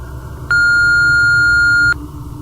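A telephone gives a single long, loud electronic beep lasting about a second and a half, set against a low background murmur.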